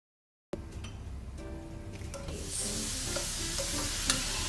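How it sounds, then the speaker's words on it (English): Smoked tofu sizzles in a pan of sesame oil and tamari, the frying starting abruptly after a moment of silence and growing into a steady, bright hiss with occasional stirring clicks. "Add the sesame oil and tamari into the pan, and we're going to add our smoked tofu"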